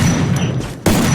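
Gunfire in the Free Fire battle royale mobile game: loud, dense bursts of shots close up, dropping briefly before another sharp burst.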